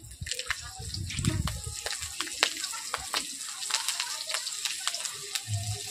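Slit green chillies and nigella seeds sizzle in a little hot oil, a crackling, spitting fry with scattered pops and stirring clatter, fairly soft and close.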